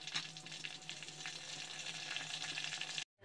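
A bay leaf sizzles in hot oil in a clay pot, a continuous close crackling fry with small pops that stops abruptly near the end, fairly quiet and without voices.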